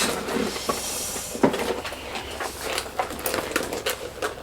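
A dresser drawer slides open and is rummaged while someone sorts items to sell, giving scraping rumbles, knocks and light rattling clatters at close range, with no speech.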